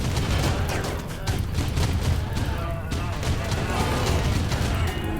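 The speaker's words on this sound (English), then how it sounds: "So I had to turn on the turrets temporarily." Rapid bursts of turret gunfire in the video game RimWorld, dense and continuous at loud volume, with crashing impacts mixed through the volley and no speech.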